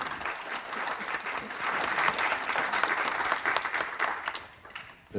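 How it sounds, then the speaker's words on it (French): Applause from an audience at an authors' meeting on poetry and visual arts, a dense, steady wash of clapping lasting several seconds before fading out. "On les applaudit."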